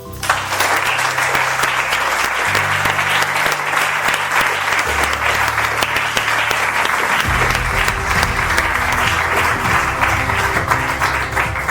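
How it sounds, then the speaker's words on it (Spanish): Sustained applause from an audience at a religious freedom awards ceremony, honouring volunteers; steady dense clapping fills the room throughout, with a low hum running underneath. "me gustaría darles un aplauso"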